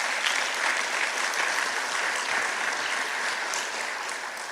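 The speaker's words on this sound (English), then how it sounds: "Please stand and give these trustees a huge round of applause." A standing audience at a business scholarship breakfast gives trustees a steady, full round of applause, a continuous wash of clapping that fades slightly toward the end.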